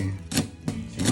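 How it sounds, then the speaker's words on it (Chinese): A knife chopping green onions on a cutting board, three sharp rhythmic strikes about a third of a second apart, close and fairly quiet. "葱切碎"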